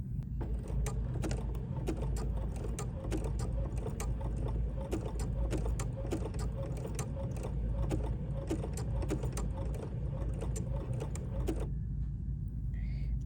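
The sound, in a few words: sewing machine stitching on a button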